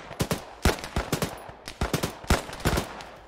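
Arma 3 machine gun fire in loud, close bursts of sharp repeated shots, grouped in quick clusters with brief gaps between them.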